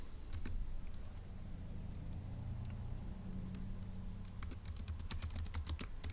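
Faint clicking keystrokes from someone typing notes on a computer keyboard, scattered at first and then coming in quicker runs near the end, with no one talking.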